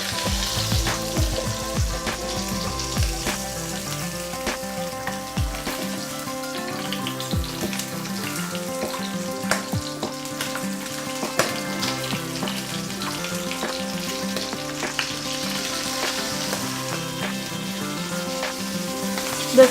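Fish heads fry in a pan with a dense, continuous sizzle and spatter, close and loud, with occasional clinks and scrapes from turning the pieces.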